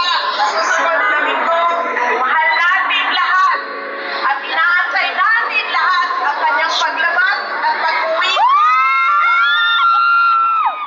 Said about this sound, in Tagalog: hiyawan yung mga supporters niya sa London.